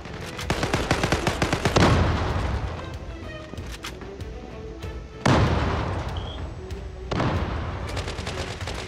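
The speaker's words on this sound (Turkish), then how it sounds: "Mermi, sanki mermi sesleri biraz değişmiş." Rapid automatic gunfire in the Zula online shooter, loud bursts of fast crackling shots in three separate volleys with brief pauses and lingering echoes between them.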